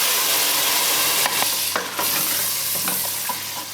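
Steady, dense sizzling of thick tomato puree frying with spices in a hot pan, with a few soft clinks of a utensil stirring through it.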